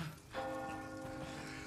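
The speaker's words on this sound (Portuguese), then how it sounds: "Tocando o sino." A church bell tolls once in the Resident Evil 4 Chainsaw Demo, its ringing tone sustaining and slowly fading over a soft, rain-like background hiss.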